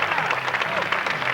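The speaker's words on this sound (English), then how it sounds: "Put your hands together." Audience members at a hypnosis show clap and cheer in a brief, dense burst of applause that fills the room, with voices mixed into the noise.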